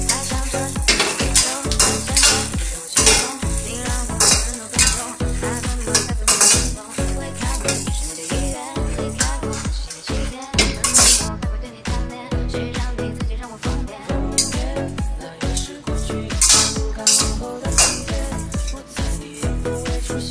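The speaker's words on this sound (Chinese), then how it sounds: "辣椒炒干之后，放一点油进来，" Dried chilies stir-fry in oil in a wok for Sichuan boiled pork slices, with rhythmic, close metal scraping and tossing strokes over a constant sizzle and no talking.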